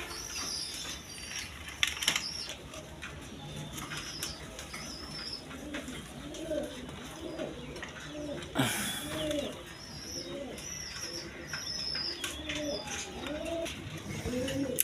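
Indian Bombay pigeons held for sale coo over and over in soft, rhythmic throaty calls, with occasional wing flaps and rustling nearby.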